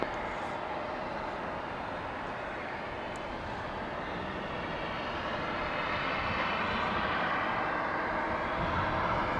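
An airliner taking off from runway 18 Left at DFW International Airport gives a steady, broad engine roar that stays loud and level throughout, slowly building near the end, with no talk over it.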